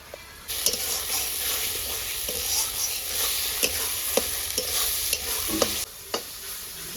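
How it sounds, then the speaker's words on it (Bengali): Spices sautéed and stirred in a pan while cooking a chicken curry, with a steady close sizzle of frying broken by repeated sharp scrapes and clinks of the spoon against the pan. "কষানো হয়ে গেছে মশলা"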